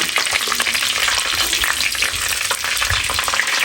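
Curry leaves splutter in hot oil inside a clay pot, a loud, dense crackling sizzle with rapid popping bursts throughout, no voices over it.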